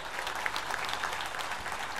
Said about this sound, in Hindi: इसके लिए एक बार जोरदार ताली बजाओ।